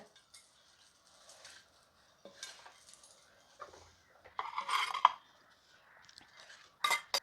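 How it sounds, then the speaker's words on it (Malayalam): Fried ingredients tipped into a pan of a sweet holiday dish and stirred, giving scattered clinks and scrapes of a spoon against metal, with a louder clatter near the end; no talk. "നമ്മുടെ ഇനി വറുത്ത് വെച്ചിരിക്കുന്ന സാധനങ്ങളൊക്കെ ഒന്ന് ഇട്ട് കൊടുക്കാവേ"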